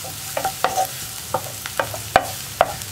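Sliced onions sautéing in a pan for a cauliflower potato curry, a soft frying hiss beneath a handful of sharp, irregular scrapes and clinks of a spoon stirring against the pan.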